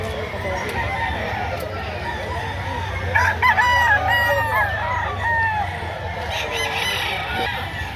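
A sweater-line bull stag rooster, about eleven months old, crows once at moderate distance over steady outdoor background noise.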